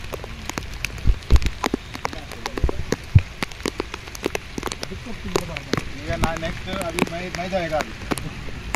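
Rain falling steadily on surfaces near water at a search and rescue operation with a local fishing boat present, with scattered sharp drop impacts throughout and someone speaking over it.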